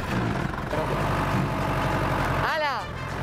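A tractor engine runs with a steady low idle. Voices talk over it, and a short swooping mechanical whine rises near the end.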